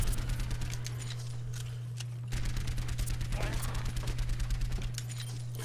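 Rapid gunfire from the first-person shooter Overwatch plays in dense bursts under a constant low hum, with a louder stretch in the middle and the sound continuing throughout.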